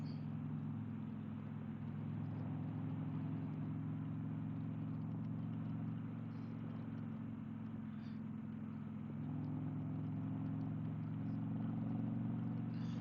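A motorcycle cruises steadily along a cold, wet road, its engine a continuous low drone with a slight rise in pitch partway through, wind rumble underneath and no talking.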